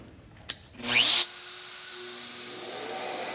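A Shaper handheld CNC router cutting an inlay pocket: a sharp click, then a brief loud high-pitched spindle whine that drops to a steadier motor hum with dust-extraction noise.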